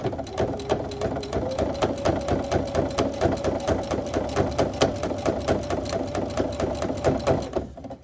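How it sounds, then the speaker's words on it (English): A sewing machine running steadily as it stitches a reusable shopping bag, a fast even mechanical rhythm of needle strokes, close and loud with no talk. "and then we're just going to sew away"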